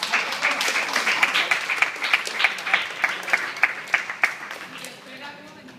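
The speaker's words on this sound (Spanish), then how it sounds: "foto y aplauso para ellos" Applause for martial arts students at a belt grading, starting as a mixed crowd clap and settling into a rhythmic, unison beat that fades slightly at the end.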